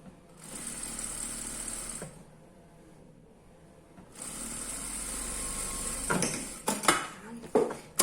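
Sewing machine stitching a doll's coat, running in two sustained bursts with a pause between, followed by clattering handling knocks near the end; close and moderately loud.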